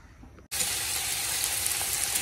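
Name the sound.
pointed gourd (potol) frying in a kadai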